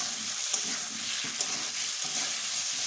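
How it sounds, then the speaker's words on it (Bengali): Tomatoes and potatoes fry in a pan with a steady, dense sizzle, broken now and then by faint stirring scrapes; no voices. "দেখুন টমেটো আর আলুগুলো সুন্দর করে ভেজে নিয়েছে"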